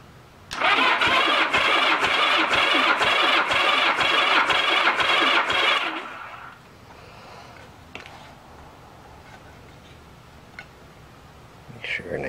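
1981 Honda GL1100 Goldwing motorcycle engine cranking over on the starter during a compression test, a rhythmic chugging pulse lasting about five seconds, loud and close, before cutting off to quiet handling clicks.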